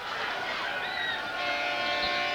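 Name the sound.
horn sounding at end of quarter at football game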